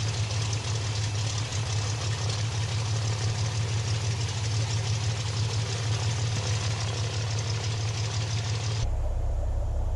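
Steady idle of a simulated Cessna 182 Skylane piston engine in Microsoft Flight Simulator 2020, a continuous low droning hum with a deep tone shift near the end, heard alone without talk.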